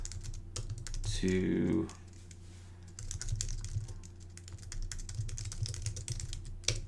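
Keys clatter on a computer keyboard in quick, irregular bursts, fairly close, while a voice speaks briefly near the start over a low steady hum.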